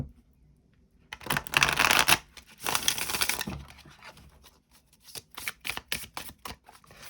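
Tarot cards being shuffled and cut, with two dense riffling bursts followed by a run of quick, light card slaps and taps, close and fairly quiet, with no talking.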